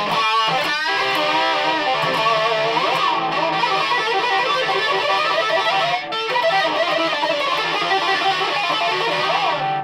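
A 1981 Westone Thunder 1 electric guitar played through distortion, with dense sustained chords and ringing notes filling the whole stretch at a loud, steady level, with no talking.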